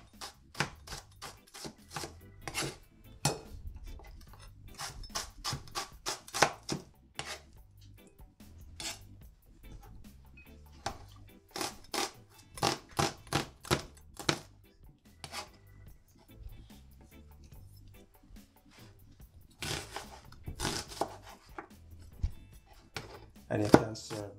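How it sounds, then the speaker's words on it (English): A knife chops onions small on a cutting board in rapid bursts of crisp taps, with pauses between runs, close and clear. "So I'm just gonna cut my onions. I'm just gonna cut them small."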